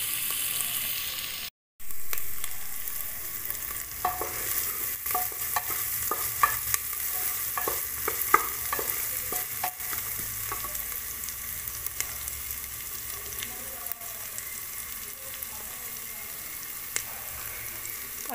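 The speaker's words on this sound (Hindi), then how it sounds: "जब हमारा प्याज हल्का सा पक जाए, ट्रांसपेरेंट हो जाए" Onions frying in a pan for pav bhaji, a continuous close sizzle with frequent light scraping stirs, a brief cut near the start, and no talk over it.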